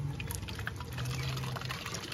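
Water is poured from a jug into a cup or glass for a visitor on a hot day at home, a soft close trickle with faint drips under low background hum.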